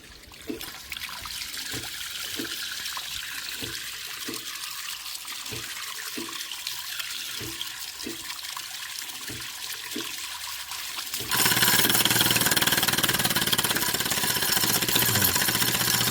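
Water runs through the brass check valve of a non-powered water pump, a steady flow with regular clacking pulses about twice a second, then a sudden switch to a louder, fuller rush of water.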